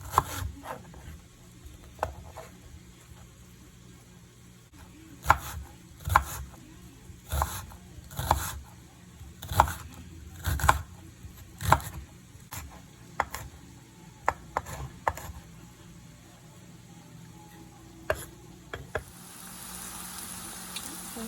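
An onion is chopped with a knife on a cutting board, sharp, distinct thuds in uneven bursts with short pauses between, close and clear, with no talking.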